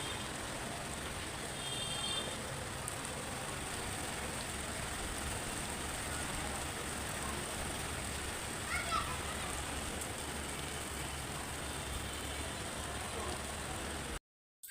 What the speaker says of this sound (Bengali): দেখেন ভালোই জোরে বৃষ্টি হইতেছে।